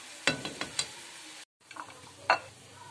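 Onion and garlic with spices frying in a pot, a faint sizzle with a few sharp stirring clacks of utensil against the pot, briefly cut to silence midway, no talking.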